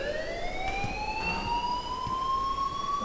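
An alarm in the video game Life is Strange Remastered: a steady, rising electronic siren-like wail that holds for several seconds at moderate loudness, with a faint background murmur and no clear talk.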